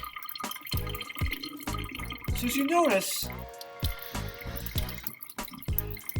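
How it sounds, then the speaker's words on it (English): Water draining out of a hole in a tank during a fluid dynamics demonstration, a trickling, splashing flow beneath a voice talking throughout. "I'm going to release my finger on the hole, and we're going to see water come out."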